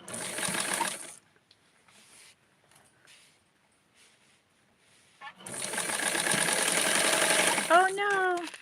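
A sewing machine stitches in a fast buzzing run, stops for a few seconds of near silence, then starts again in a longer steady burst, close and fairly loud, with a brief high squeak near the end.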